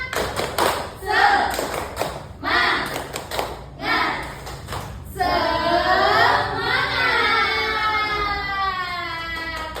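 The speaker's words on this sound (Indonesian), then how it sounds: "Tepuk semangat." Classroom children clap the rhythmic 'tepuk semangat' cheer, several sharp clap bursts in a patterned rhythm over about five seconds, followed by a teacher's voice speaking over the room.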